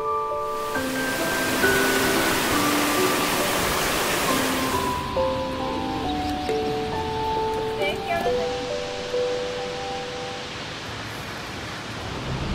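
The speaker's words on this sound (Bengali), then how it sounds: "একের পর এক ঝর্ণা" Waterfalls in the Swiss Alpine valley of Lauterbrunnen roar as a steady, broad rush of falling water throughout, with tonal birdsong or chimes layered over the constant noise.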